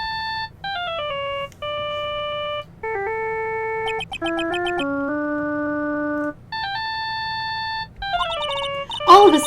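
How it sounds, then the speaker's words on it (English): Cell phone ringing in the Phoenix Wright video game, a loud melodic electronic ringtone of stepped beeping notes repeating in phrases, with a brief burst of other sound at the end. "All of a sudden, the phone began to ring."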